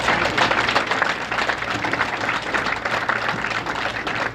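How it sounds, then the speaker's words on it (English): An indoor hometown crowd at a bowling match applauds steadily, a dense wash of many hands clapping at moderate volume throughout. "And a nice round of applause from the hometown crowd"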